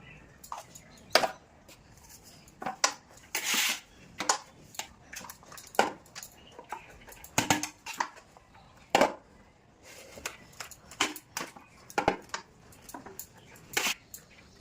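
A utensil stirs fried rice with ghee in a pan, giving irregular sharp clanks, scrapes and knocks against the metal. The sounds are close and come in quick bursts, with no talking.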